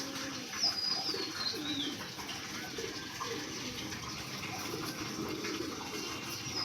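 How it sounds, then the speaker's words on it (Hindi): Local pigeons perched above water give soft low cooing calls amid a steady wash of flowing water, faint and fairly distant, with a brief high bird chirp early on. "ये देसी कबूतर"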